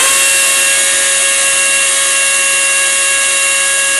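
A Raptor pneumatic torque tool runs continuously while loosening a fastener, a loud steady high-pitched whirring hiss with tonal whine and no pauses.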